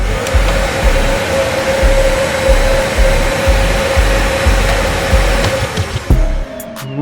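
A vacuum cleaner is switched on and runs with a loud, steady motor roar and rhythmic pulsing, then winds down near the end with a brief clatter.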